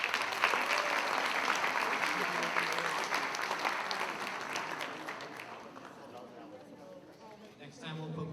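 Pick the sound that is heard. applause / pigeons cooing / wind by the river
applause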